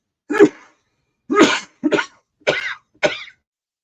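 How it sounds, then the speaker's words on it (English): A person coughs five times in a row, harsh and close, with short pauses between each cough. "it just tickled so bad I couldn't stop coughing"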